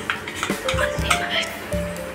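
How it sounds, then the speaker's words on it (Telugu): Ground paste being stirred into cooked vegetables for Udupi sambar in a pot, with repeated scraping and clinking of a spoon against the pan and a soft sizzle underneath, close and steady. "మొత్తం కలిసేదాకా కలుపుకోవాలి"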